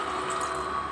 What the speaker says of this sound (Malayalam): ഇത് നമുക്ക് കുറച്ച് വെള്ളം ഒഴിച്ച് കൊടുക്കും